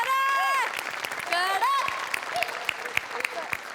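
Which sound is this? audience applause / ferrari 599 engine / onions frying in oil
audience applause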